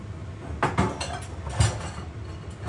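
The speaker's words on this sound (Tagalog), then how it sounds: "Tapusin ko lang itong paghuhugas ng pinggan." Plates, pots and cutlery knock and clink together in a kitchen sink during dishwashing, a few soft scattered clatters over steady running water or exhaust-fan noise.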